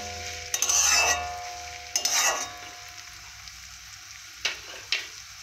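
Onions with ginger and garlic frying in a pan, two short bursts of bright sizzling as the mixture is stirred, then a quieter simmer punctuated by a few light spatula taps.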